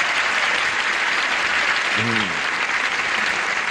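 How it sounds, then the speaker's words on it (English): Steady, loud applause from a TV game show studio audience fills the whole stretch, with a brief voice rising faintly underneath midway. "Applause, applause, applause."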